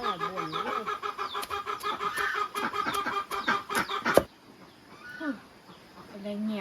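Chickens and ducks call around a poor rural house, with repeated close clucking and squawking in a steady rhythm that breaks off abruptly, followed by quieter calls while people talk nearby.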